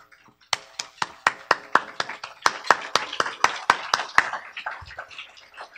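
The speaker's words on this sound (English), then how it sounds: "they deserve two rounds of applause" A small group at a participants' meeting claps slowly and unevenly at close range, about twenty distinct, sharp claps in a loose rhythm that thins out toward the end.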